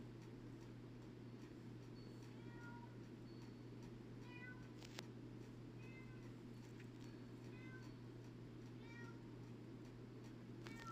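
A pet cat meowing in a quiet bedroom, several faint rising meows spaced a few seconds apart over a constant low electrical hum.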